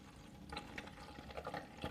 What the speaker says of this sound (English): I'm gonna just pour the water.